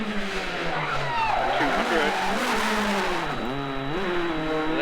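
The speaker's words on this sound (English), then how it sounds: "How good does this little car sound in full flight?" A small rally car at full speed on a forest stage of the Australian Rally Championship screams through rising and falling revs with gear changes, loud and close inside the cabin, while a co-driver calls notes over it.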